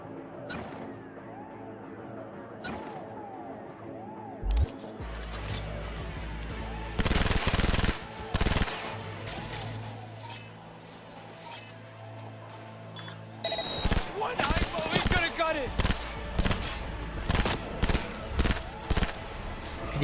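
Guns firing in Cyberpunk 2077 gameplay: loud, dense bursts of rapid automatic shots and fusillades come in clusters, sharp and close, with brief lulls between volleys and electronic game beeps mixed in.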